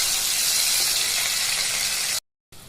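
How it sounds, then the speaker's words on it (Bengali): Ground spice paste frying in hot oil in a pan for an ol kochu (elephant foot yam) dish, giving a steady loud hiss that cuts off abruptly near the end before faintly resuming. "এটাকে ভালো করে কষিয়ে নেব।"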